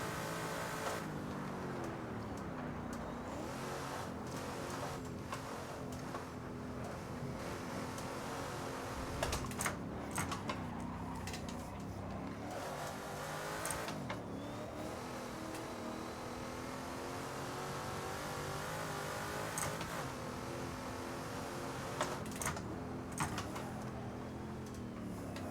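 A 1970s Trans Am race car in the Assetto Corsa racing game gives a sustained engine drone that revs up and down through gear changes, with occasional keyboard clicks over it.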